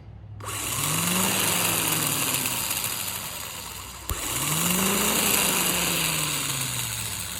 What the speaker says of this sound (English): Starter's working. It's only gonna turn that gear right there.